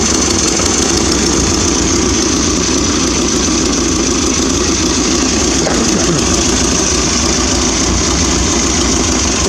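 The engine of the YAC runs warm, a loud, close, continuous drone that holds steady and even throughout with no talking.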